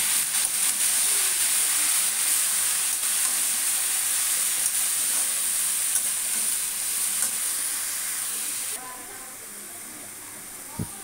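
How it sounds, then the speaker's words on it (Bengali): Chopped spinach fries and sizzles in a pan while being stirred, a steady close hiss with scraping stir noises that carries on evenly and then drops quieter near the end. "কেটে রাখা পালং শাকটা দিয়ে পুরোটা দিয়ে দেওয়ার পরে কিছুক্ষণ নাড়িয়ে চাড়িয়ে নেব"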